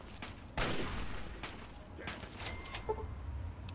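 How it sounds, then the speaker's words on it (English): Distant gunfire from a shootout in Fallout 3, a rapid scatter of faint cracks and pops over a low background, with no talking. "Oh, they having like a shootout somewhere or something?"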